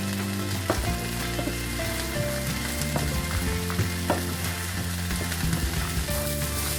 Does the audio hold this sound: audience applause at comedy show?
no